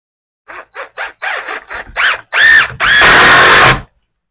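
A power drill drives screws into a wooden roof truss, with several short whirring bursts that rise in pitch before one long, loud, sustained run close by.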